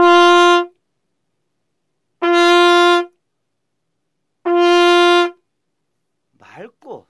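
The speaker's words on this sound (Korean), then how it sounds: "맑은 버징은" Relaxed, clear lip buzzing of the kind used for trumpet playing sounds as three bright, steady tones of equal length, evenly spaced with silence between them. A brief faint sound follows at the end.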